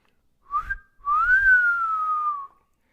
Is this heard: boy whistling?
yes